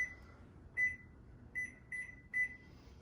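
Oven timer buttons beep in a kitchen while pumpkin rolls bake, five short bright electronic beeps spaced unevenly and heard close and alone.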